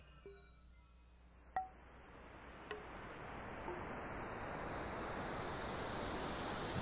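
Synthesized ocean surf made in VCV Rack rises as a steady, swelling hiss, with a few sparse wooden knocks and tonal taps near the start, no voices.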